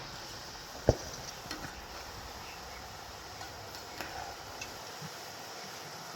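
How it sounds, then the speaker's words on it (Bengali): Chushi pitha frying gently in oil over low heat give off a faint, steady soft sizzle, with one sharp clink and a few light ticks scattered through it. "আর এই পিঠেগুলো ভাজার সময় কিন্তু হালকা আছে রাখতে হবে নাই তো কিন্তু পুড়ে যাবে"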